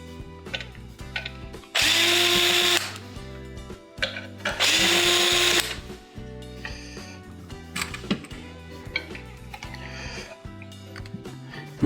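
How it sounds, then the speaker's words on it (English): A power drill backs out two screws that hold the ice solenoid on a GE refrigerator's ice maker assembly. It gives two loud, sustained whirring bursts close by, with softer clicks and handling clatter between and after them. "you can take these 2 screws out that are holding in the solenoid"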